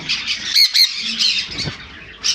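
Blue conures, including full adults and blue yellow-sided conures, give shrill, harsh squawks in quick repeated bursts close by, loud and piercing, with no talking.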